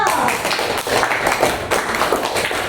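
Students in a classroom clap together in a short, lively burst of overlapping claps, mixed with nearby voices.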